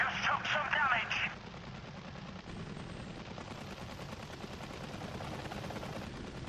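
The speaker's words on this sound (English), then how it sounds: "Hey, they're shooting at us!" Gunfire in the Apache Air Assault helicopter combat game: a bright burst of rapid shots early on, then a steady low rumble of rotor and battle noise that carries to the end.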